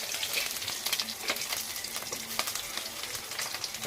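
Chopped onion frying in a hot pan for Tamil kara chutney, a steady close crackling sizzle with soft stirring scrapes throughout, no voices.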